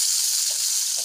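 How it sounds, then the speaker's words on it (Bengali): Live lata fish frying briefly in hot oil make a steady, close hiss and sizzle with no pauses. "মাছগুলো বেশি ভাজবো না, এটা জানতো মাছ তো, অল্প করেই ভাজবো"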